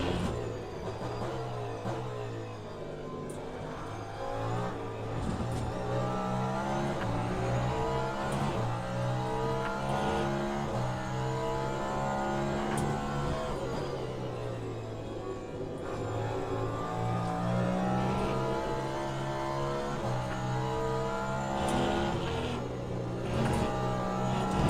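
A race car engine in the sim racing game Le Mans Ultimate drones and revs continuously, climbing and dropping through gears with steady, loud whine and no talk.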